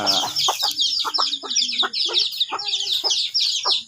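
Mother hens and their chicks on a small poultry farm, the hens giving low repeated clucks in an uneven rhythm while the chicks peep continuously in high chirps, all close by.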